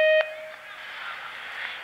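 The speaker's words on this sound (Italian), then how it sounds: "Lasciate il vostro messaggio dopo il segnale acustico." An answering machine sounds a short, clear electronic beep right at the start, then a steady hiss of an open phone line runs on alone.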